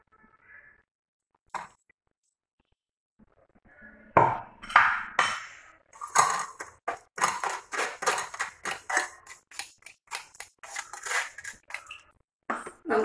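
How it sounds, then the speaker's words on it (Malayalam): Ground amla (gooseberry) juice, orange in colour, being strained in a kitchen: a quiet start, then a dense run of scraping, clattering metal-on-vessel knocks and squelches, close and fairly loud, with no talk. "നമുക്ക് ഇതും അരിച്ചെടുക്കാം."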